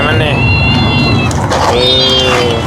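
A hungry cat meows twice during a home feeding, with long rising-and-falling cries heard over steady background noise and nearby talk.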